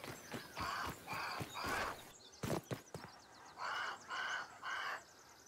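Repeated harsh caws from a bird call out in short bursts of three in the video game Grounded, loud and close, separated by a few quick clicks and knocks.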